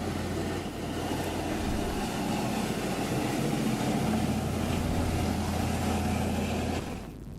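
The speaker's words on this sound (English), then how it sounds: "The next day we were overtaken by this strange Russian hydrofoil." A Russian hydrofoil passing a sailing yacht off Croatia produces a steady, loud engine drone and hiss of rushing water that holds level for several seconds, then fades at the end.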